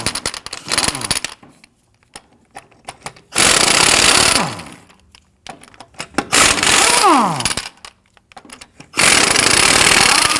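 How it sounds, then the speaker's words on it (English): An impact wrench with a 19mm socket loosens and removes the lug nuts on a 2013-2019 Ford Explorer Interceptor, giving loud rattling bursts of hammering with quieter clinks and handling noises in between. "I'm going to use a 19mm socket to go ahead and loosen and remove the lug nuts"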